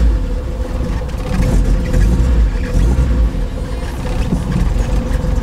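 A 1989 Alfa Romeo Graduate Spider engine runs steadily up close, giving a loud, continuous low rumble with a slightly uneven idle throughout.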